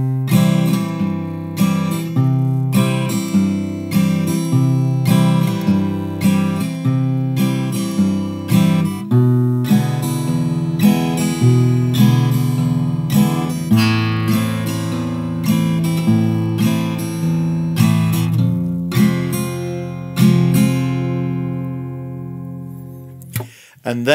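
An acoustic guitar plays the verse of a song in a simple pattern, a single bass note followed by two down-up strums, repeating in a steady rhythm, clear and close with no voice.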